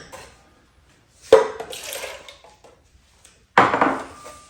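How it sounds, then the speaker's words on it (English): Two short bursts of water splashing and pouring into a metal container while preparing a Flair 58 espresso maker, separated by a quiet gap, close and clear. "Let's get some water here."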